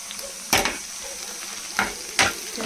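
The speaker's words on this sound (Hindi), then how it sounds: "आप देख सकते हो हमारे प्याज जो है वो अच्छे से फ्राई हो चुके हैं" Onions frying in a pan for a mutton rogan josh, a soft continuous sizzle broken by three sharp scraping stirs.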